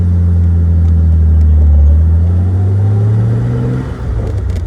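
A classic Jaguar XKE sports car with a 4-speed transmission and chrome wire wheels drives along, its engine a loud, steady low rumble that rises in pitch, then drops as the car eases off.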